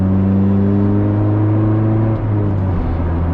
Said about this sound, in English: it is typical for kind of modified Hondas to have a big loud exhaust on